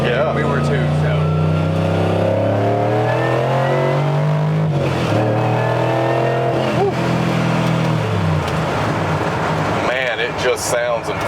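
Supercharged LS V8 in a 1971 Chevrolet C10 pro-touring truck with a 6-speed, revving loudly and continuously, its pitch rising and falling through several throttle sweeps up close with no talk.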